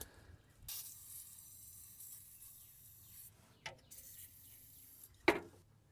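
A quick hiss of oil spray into an engine cylinder of a 1980 Dodge Power Wagon, with a short sharp spritz near the end, over a low steady mechanical hum.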